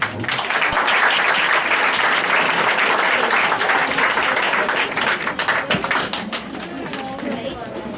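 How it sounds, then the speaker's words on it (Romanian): A crowd at an Aromanian folk festival award ceremony breaks into loud, continuous applause, many hands clapping together and gradually thinning toward the end, with a voice briefly audible underneath. "Aplauze pentru doamna Sirma Granzolea"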